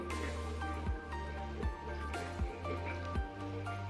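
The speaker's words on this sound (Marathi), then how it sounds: "व्यवस्थित मिक्स करून घेऊया" Chicken mince is stirred in a pan for chicken rara, making soft, wet squelching and squishing sounds in slow, repeated strokes over a faint, steady background.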